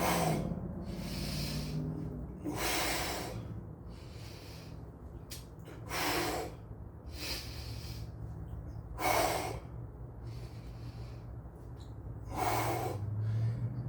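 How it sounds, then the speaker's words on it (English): Slow breathing during a core and stability workout, five or six separate inhale-exhale rushes spaced a few seconds apart, close and fairly quiet with soft room noise between them. "Inhale, exhale."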